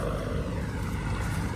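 A Sonalika Rx 60 combine harvester runs steadily during a rice harvest, giving off a continuous loud engine and machinery roar with no breaks.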